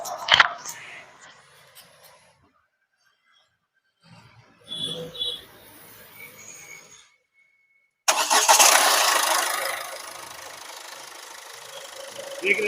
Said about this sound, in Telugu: బండి స్టార్ట్ చేసి నేను చూపిస్తాను